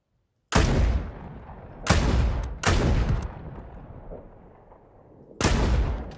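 Four heavy gunshots in Ghost Recon Breakpoint boom one after another with irregular gaps, each leaving a long decaying echo, no talking.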